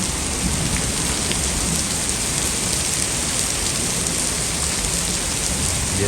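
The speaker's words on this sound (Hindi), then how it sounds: "जस्ट बारिश है और काफ़ी इसकी स्पीड ज़्यादा होती जा रही है।" Heavy rain pouring steadily during a hailstorm in Faisalabad, a loud, dense, continuous roar of drops drumming on surfaces, with no voices.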